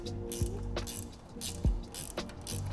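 An 8mm wrench turning the tail light nuts on an electric bike's rear rack, a few quick ratcheting clicks and metallic ticks at close range, quiet and without talk.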